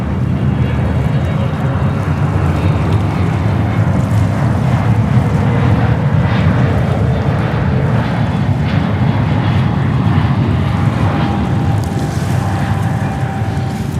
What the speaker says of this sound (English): And we have ANA 777 coming in here on 4 right.